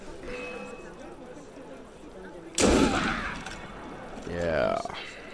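A single loud, sharp gunshot in the video game Assassin's Creed Unity, fired as a headshot, bursts out partway through over a low murmur of background chatter, followed by a brief voice.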